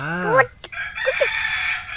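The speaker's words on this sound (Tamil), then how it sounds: "கோழியா" A rooster's crow rings out nearby and is cut off partway, followed by a few short clucks and calls from fowl in a leafy yard.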